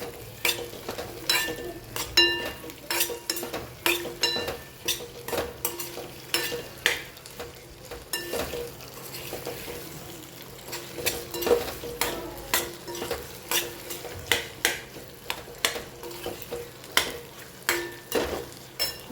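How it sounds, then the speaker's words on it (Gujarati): Potatoes are stirred in a frying pan with steady, rhythmic scrapes and clinks of the spoon over a constant sizzle, heard up close with no talking. "સાથે સાથે આપણે એડ કરી દઈએ બટાકા. સરસ મિક્સ કરી લઈએ."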